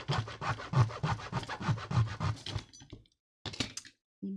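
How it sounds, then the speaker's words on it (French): A small hand saw rasps through an altered metal spoon in quick, steady back-and-forth strokes close by, then stops briefly before a few final strokes. "C'est une petite scie."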